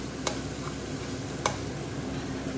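BIR-style curry base gravy sizzles steadily in a pan as it is stirred, a constant close hiss with two brief utensil clinks against the metal; no voices.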